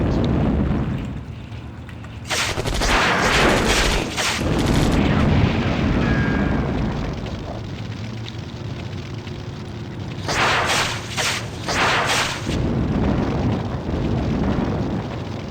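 Artillery fire and explosions in the war strategy game Sudden Strike Forever: heavy booming blasts with deep rumbling tails, two loud clusters of detonations separated by a quieter roaring stretch.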